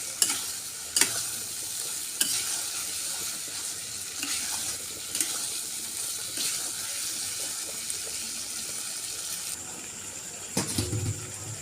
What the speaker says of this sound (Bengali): দশ থেকে 15 মিনিট অল্প অল্প জল দিয়ে সয়াবিনগুলোকে ভালোভাবে কষিয়ে নেব।